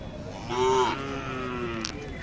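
Khillar cattle at a busy livestock market, one close, loud, sustained moo in the middle, over a steady murmur of crowd noise.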